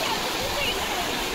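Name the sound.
flood water flowing after heavy rain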